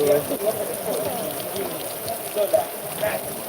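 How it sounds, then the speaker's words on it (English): A downpour of heavy rain makes a steady close hiss and patter on nearby surfaces, with people talking softly under the noise. "It's raining so heavily."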